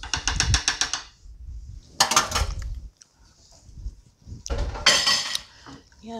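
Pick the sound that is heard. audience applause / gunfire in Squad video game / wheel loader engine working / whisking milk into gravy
whisking milk into gravy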